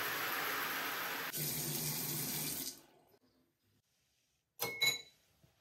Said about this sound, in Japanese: シャワーの水圧はやや弱めです。